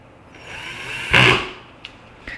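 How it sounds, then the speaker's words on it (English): Power drill boring a hole freehand, a brief loud whirring burst rising and falling in the middle of the moment, with quieter tool handling noise before and small clicks after. "So I'm just gonna freehand and drill these here."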